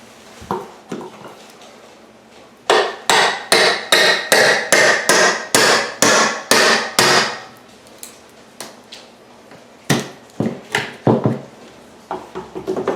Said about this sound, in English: I use a hammer, tap it down, and then you pull it side to side